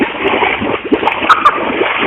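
A water jet gushes from a drilled aquifer, heard as a continuous loud rushing splash, slightly muffled as if played back from a recording, steady throughout with faint faraway voices underneath.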